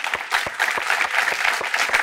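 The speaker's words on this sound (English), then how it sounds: "Round of applause for those amazing judges" Audience applause for the judges at the Imagine Cup World Championship, a dense steady patter of many hands clapping close by, with sharp individual claps standing out through the whole stretch.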